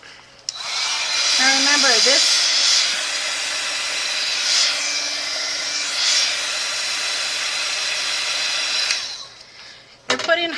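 A hair dryer blows hot air onto glue on dripping candles for a haunted house, a loud steady whooshing hiss running for about eight seconds before switching off, with a brief spoken phrase and a tone at the start.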